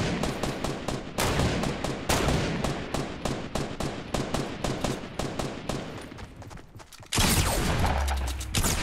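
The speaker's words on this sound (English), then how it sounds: "They're shooting at me." Rapid bursts of automatic gunfire in the Fortnite battle royale, loud and repeating in quick volleys for most of the stretch, dropping out briefly before a heavy blast and continued firing near the end.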